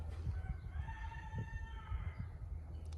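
A rooster crows faintly in the distance, one drawn-out call rising and falling over a low outdoor rumble.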